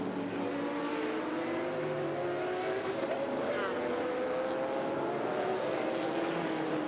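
A race car drives at the 2002 Daytona 24 Hours, its engine a steady, moderately loud drone with smooth rising pitch as it accelerates through a kink, a commentator talking over it.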